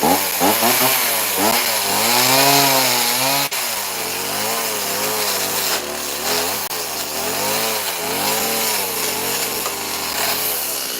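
A chainsaw carves wood close up, its engine whining and bogging in wavering pitch as the cut loads and releases, continuous and loud throughout.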